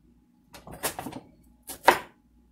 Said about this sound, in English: I'm just going to take my butcher knife and get these chopped up fine.